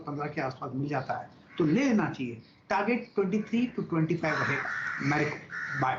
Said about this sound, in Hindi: आपके खिड़की के बाहर जो बरगद का पेड़ है उसमें कौवा इतनी तेज बोल रहा है